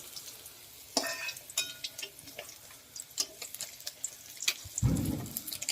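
Pieces of large katla fish fry in oil, a soft crackling sizzle punctuated by sharp clicks and taps of a utensil, ending with a louder burst of spitting and bubbling as more fish goes into the oil, close by with no talking.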